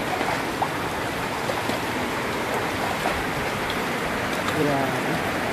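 Heavy typhoon rain and rushing floodwater in Malabon during Typhoon Carina, a dense, steady broadband wash that fills the whole clip with no break and stays loud and close throughout.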